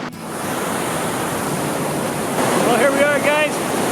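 Flowing water of the Grand River at Elora Gorge, a steady broadband rush heard close, with a brief voice near the end.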